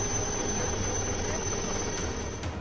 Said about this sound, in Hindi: उफनती कावेरी नदी, उसके ऊपर उड़ता हेलीकॉप्टर, हेलीकॉप्टर से नीचे लटकी रस्सी